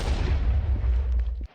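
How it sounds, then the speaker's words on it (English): Explosives fired in a modded Minecraft datapack: a heavy booming blast with a deep low rumble that rolls on for over a second, then cuts off abruptly. "you can shoot the explosives just like this"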